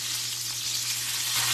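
Salmon fillet fries in a pan of mainly olive oil with a little butter, giving a steady, close, dense sizzle with no break and no voices.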